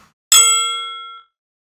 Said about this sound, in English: triangle, I transpose it down an octave.